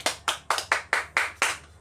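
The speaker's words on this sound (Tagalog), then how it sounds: "Bigyan muna natin ng malakas na palakpak ang pangkat una" A class claps together in a classroom, a brief burst of seven sharp, evenly spaced claps close by with no talking.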